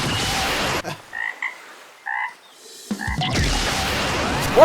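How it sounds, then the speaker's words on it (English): A frog in a Death Battle animation gives a few short, loud croaks in quick pairs, set against surrounding bursts of animated action noise. "Poor frog, though."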